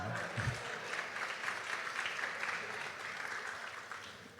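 Steady applause from a church congregation fills the whole span, dense and moderately distant, with a few faint voices mixed in.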